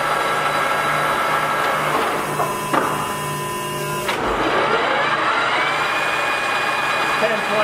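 A Timemaster 27 by 80 inch gap bed engine lathe running steadily at 678 RPM, a loud continuous mechanical whine and hum with a brief shift in pitch partway through.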